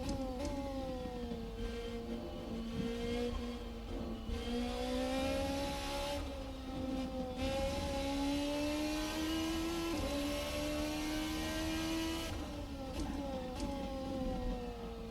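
The IER P13c race car's engine drones steadily through a corner, its pitch dipping and climbing again through gear changes as it accelerates out, with steady road and tire noise underneath.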